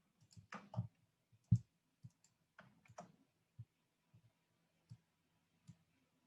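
Several sharp mouse clicks and clicks from other keys while setting up a drone.io deployment on Kubernetes, spaced irregularly with a few louder taps, close and fairly quiet, with no talk.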